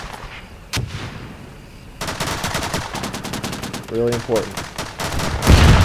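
Gunfire in the online war game Warfare Online during a tank push against anti-tank and infantry units: sharp single shots, then dense rapid bursts of machine-gun fire with a few heavier booms, under someone speaking briefly.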